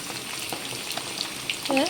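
Ginger and garlic sautéing in hot oil for an egg curry, a steady close sizzle with faint stirring and a brief voice near the end.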